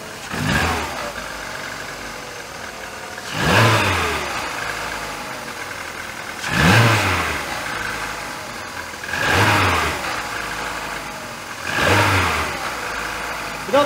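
A cold petrol car idles in freezing, snowy weather and is revved five times, each throttle blip swelling loudly then dropping back to idle at an even rhythm, close and clear with no voices.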